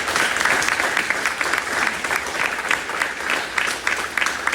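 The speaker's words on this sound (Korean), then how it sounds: "우리 한 박수 한번 칠까요?" A crowd at a campaign disbanding gathering in Bundang breaks into sustained applause, dense rapid clapping from many hands with rhythmic bursts, fairly loud and close, with no speech over it.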